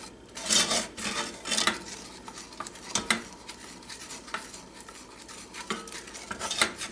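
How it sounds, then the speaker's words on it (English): A utensil stirs vanilla and salt into a thick salted caramel walnut pie filling, giving irregular scraping and clinking against the pot or bowl, close and moderately loud with quieter stretches between strokes. "Get that stirred in well"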